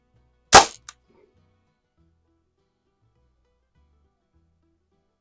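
A Crosman M1 carbine air rifle fires a single sharp BB shot, followed a moment later by a faint small impact on the target, then near silence.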